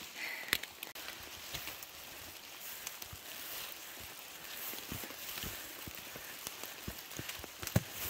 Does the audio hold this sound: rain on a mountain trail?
yes